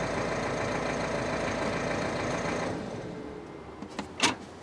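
A 2017 Peugeot 3008 engine idles as an even mechanical hum heard from outside the car, then drops away, leaving a few light clicks and knocks.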